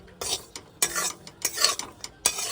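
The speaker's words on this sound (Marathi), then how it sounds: "ड्रायफ्रूट मी थोडेसे तुपामध्ये तळून घेते" Dry fruits fry in ghee in a pan for rava laddoos, with about five bursts of sizzling and spoon scraping as they are stirred, close and fairly quiet.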